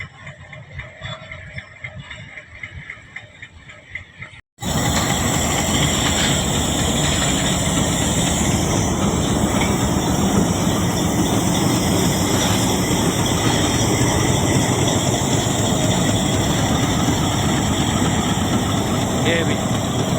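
Relief train engine and coach from Rawalpindi move along the track near an overturned train at Hazara railway crossing, Taxila. Quiet background gives way to a sudden loud, steady mechanical rumble that continues to the end.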